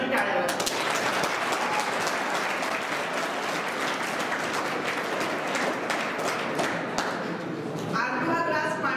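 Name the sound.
students applauding at a seminar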